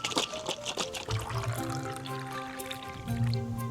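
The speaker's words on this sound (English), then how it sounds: "Half a cup of oat milk, or whatever milk you feel like using." Oat milk pours into a cup over ice, a close continuous liquid stream with trickling and rising fill tones as the cup fills.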